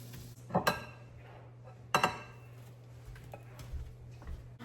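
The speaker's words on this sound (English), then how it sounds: "I'm just going to dump my scrambled eggs into this bowl with this cottage cheese" Scrambled eggs tipped from a pan into a bowl of cottage cheese in a home kitchen: two sharp metallic clinks of utensil against dish, followed by softer scrapes and taps in a quiet room.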